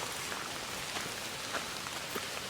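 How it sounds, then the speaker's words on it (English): Steady rain pours on the Appalachian Trail near Newfound Gap at the Tennessee-North Carolina line, a dense, even hiss with scattered sharper drops pattering close by, with no voices. "Still raining."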